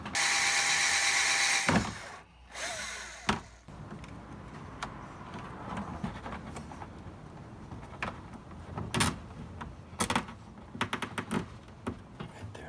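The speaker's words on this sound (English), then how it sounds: "I wanna just need to drill right here real quick" A power drill whines loudly for a couple of seconds while drilling into a car bumper of an Acura RSX Type-S, followed by clunks, scrapes and scattered knocks of tool work nearby.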